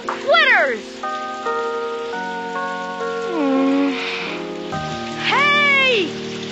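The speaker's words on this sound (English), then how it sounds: "You're not gonna let a little rain bother you, are you?" Cartoon rain pours during an outdoor Arbor Day scene in a Peanuts animated special, a steady hiss running under loud music and sweeping tonal sound effects.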